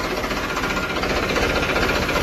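A steady, loud tractor engine drone with a fast mechanical chug, driving a water pump, running continuously and close by without pause.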